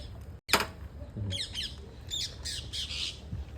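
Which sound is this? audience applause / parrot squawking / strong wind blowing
parrot squawking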